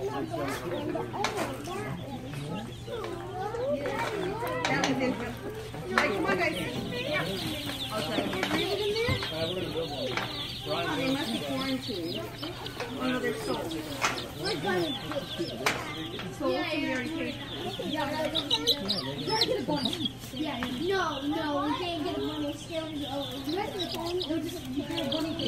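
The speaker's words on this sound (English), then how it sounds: "We're getting pullets, which are strictly females." Pullet chickens packed together in a box cluck and cheep continuously, close and busy, while people talk over them throughout and a steady low hum runs underneath.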